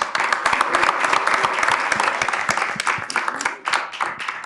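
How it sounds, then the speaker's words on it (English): Loud, close applause from a group, with many distinct claps forming a lively, sustained patter that tapers off at the end. "Round of applause."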